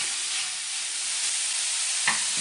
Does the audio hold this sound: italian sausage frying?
yes